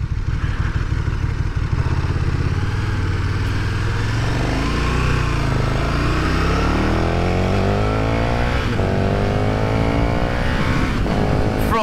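A 2020 KTM Super Duke R motorcycle accelerates hard on an English road, its engine loud and close, rising in pitch through several gear changes with a steady roar and wind noise throughout.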